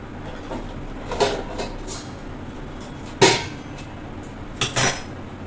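A metal cake pan set into a hot cooking pot and covered with a lid, heard as a few sharp clanks and metallic knocks against a quiet kitchen background.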